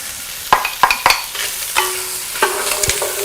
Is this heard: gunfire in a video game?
no